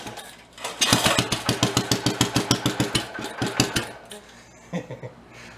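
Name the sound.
old amusement park ride engine starting and idling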